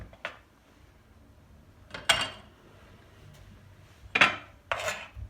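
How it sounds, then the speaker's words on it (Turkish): A knife dicing three tomatoes into cubes for a baked zucchini dish with tulum cheese makes four sharp, separate chopping knocks on the board, with long pauses between them and no talk. "3 domates bu şekilde doğranacak."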